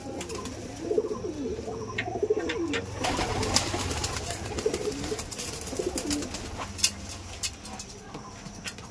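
Kaldam pigeon chicks coo and murmur nearby, low throaty calls repeating over a constant background flutter and rustle, with a few sharper clicks scattered through.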